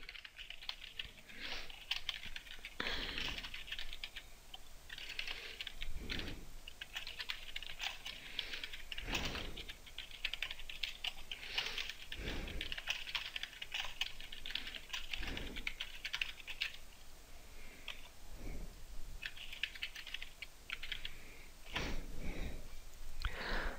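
Steady typing on a computer keyboard while entering spreadsheet text: a continuous patter of keystrokes, fairly quiet and close, broken by several heavier thumps from larger keys.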